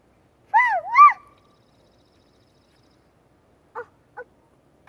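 Two quick whistled bird-call imitations by a three-year-old toddler, rising and falling swoops close to the microphone, followed after a pause by a few short, fainter chirpy calls.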